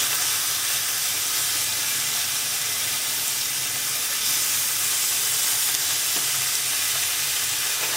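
Bacon sizzles steadily in a pan, a whole package frying at once, with a constant close, dense crackle and hiss that runs unbroken from start to finish with no talking.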